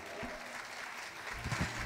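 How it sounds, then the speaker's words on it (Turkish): Concert audience applauding: a steady, dense wash of clapping throughout, with a voice briefly audible over it. "Koskocaman bir alkış onlara"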